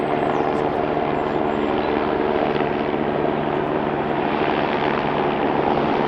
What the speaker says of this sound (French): Ah bah c'est l'hélico.